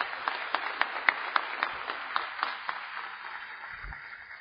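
Church congregation clapping in scattered, fairly sparse claps at moderate distance, thinning out toward the end, with no voices over it.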